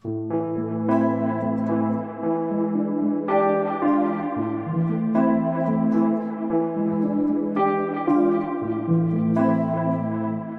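Soft, shimmering electric piano chords ring out in a slow, dreamy progression, each chord sustained with bell-like overtones and a gentle echo.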